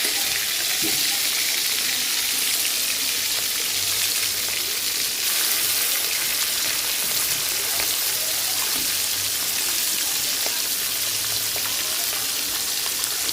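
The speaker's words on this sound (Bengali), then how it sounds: "মাছটা ভাজা হোক" Pieces of catla fish frying in hot oil for malai catla, a steady dense sizzle and crackle with scattered pops running throughout, close and continuous.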